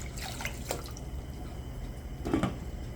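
Water splashes and drips into a pot of lentils on the stove, with a few scattered bursts of pouring and dripping over a steady low background hum.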